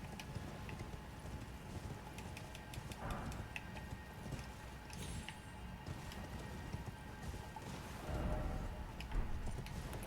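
Horse hooves clop in the Elden Ring video game as a faint, busy stream of rhythmic thuds mixed into dense outdoor ambience and wind, swelling slightly toward the end, with no talking.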